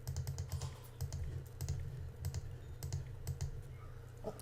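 Rapid clicking keystrokes patter on a keyboard, close and steady with small pauses, no voices.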